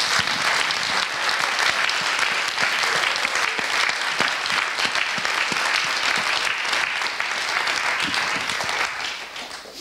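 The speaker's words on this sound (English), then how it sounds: "Please, a warm round of applause for our team and all our volunteers." A festival crowd at IMPAKT Festival 2015 claps in a full, steady round of applause that stays even for several seconds before tapering slightly at the close.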